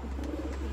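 A racing pigeon cooing briefly and faintly in its loft, the low murmuring call sitting over a constant background hum with no voices.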